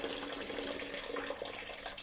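Tap water runs steadily while lentils are washed in a sink to rinse away sand. A constant close splashing hiss fills the whole stretch with no speech.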